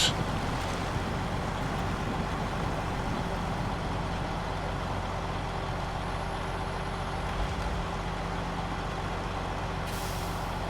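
A Mack truck engine in the game SnowRunner drones steadily and loudly throughout, a deep constant rumble with a faint hiss near the end and no talk.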